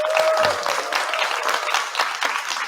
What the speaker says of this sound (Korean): 우리 감사의 뜻으로 박수 한번 보내주시죠.